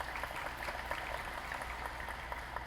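Audience applause at a high school graduation ceremony, a steady, fairly distant wash of many hands clapping with no break across the short stretch.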